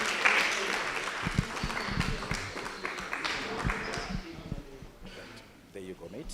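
Moderate clapping from a small audience for a team at a gaming hackathon winner announcement, fading toward the end, with voices talking over it.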